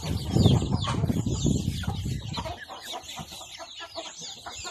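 Three-month-old young Thai fighting cock chickens clucking and calling close by, a dense busy flock sound, louder in the first half and then thinning to scattered softer clucks.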